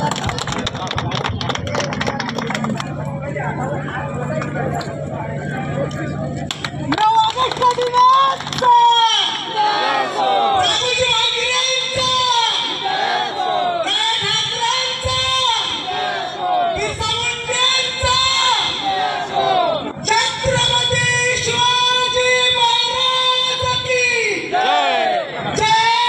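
At a village gathering for World Indigenous Day in Savargaon, a crowd claps in welcome at first, then the clapping gives way to loud, sustained group shouting and chanting.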